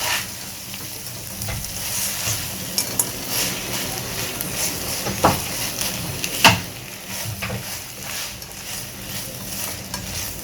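Spicy chilli masala fries being tossed and stirred in a hot pan, a continuous close sizzle broken by repeated scraping clicks of the spoon against the pan, with no talking.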